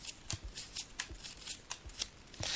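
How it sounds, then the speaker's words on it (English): Tarot cards are shuffled by hand in quick riffling bursts, a series of crisp close flutters in uneven rhythm at low volume. "So I'm just shuffling the cards now"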